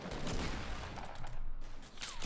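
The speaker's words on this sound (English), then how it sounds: "She's just sitting there sniping." Game gunfire from a sniping player in Fortnite rings out in a dense, steady barrage of shots and clatter, moderately loud and continuous through the short stretch with no talk over it.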